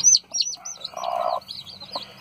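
A bantam hen and her chicks make sounds close by: high-pitched peeping chick chirps and low, soft hen clucks, in short repeated calls with no talking.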